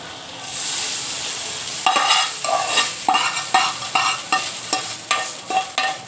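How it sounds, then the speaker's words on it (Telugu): Hot tempering with asafoetida and ginger pieces is poured into tamarind rice, giving a loud sizzle followed by a series of rhythmic stirring scrapes and clinks, close and without talk. "ఈ పోపుని మనం స్టవ్ బంద్ చేసి ఇందులో వేసేసుకోవాలి."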